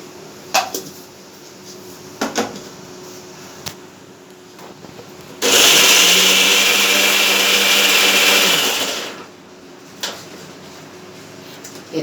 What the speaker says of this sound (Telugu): ఇప్పుడు మిక్సీ పట్టబోతుంది.